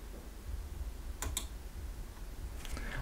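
On a Lenovo Legion 5 laptop keyboard, a couple of quick key clicks sound close by in BIOS settings, followed by a fainter tap later over a low, quiet background hum.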